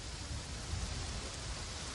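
A rain downpour gives a steady broadband hiss, even and unbroken, fairly faint and with no other sounds over it.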